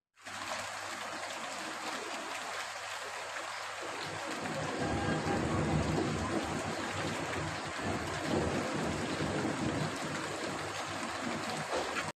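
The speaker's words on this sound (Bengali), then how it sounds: "এরপর শুরু হয়ে গেল বৃষ্টি" Rain on the first day of Baisakh, a dense steady wash of falling drops that swells louder after a few seconds and keeps going.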